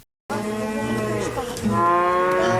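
A cow moos loudly and close by in a long, drawn-out call that swells louder toward the end, with no talking.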